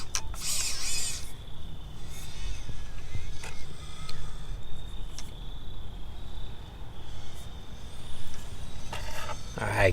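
An Axial SCX24 RC crawler with a Hobbywing Quicrun Mini24 brushless motor grinds over an obstacle outdoors, producing a steady whirring motor whine with creaks, bumps and irregular surges.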